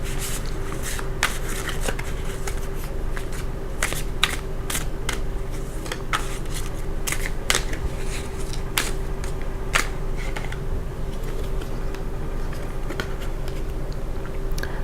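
Tarot cards shuffled by hand in a steady run of soft riffling and slapping bursts, close and continuous, with no voice.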